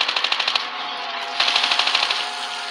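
Rapid automatic gunfire in Call of Duty: Mobile during a zombie raid, shooting repeatedly at a target in two sustained bursts of evenly spaced shots with a brief pause between them.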